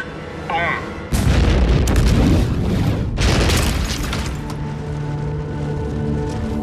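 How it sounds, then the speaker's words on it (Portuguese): Simulated nuclear bomb blast on an asteroid, a sudden deep booming explosion followed by a rumbling roar that swells again before settling into a lingering low drone, with a voice speaking briefly just before. "A sua arma nuclear fez um belo estrago no asteroide."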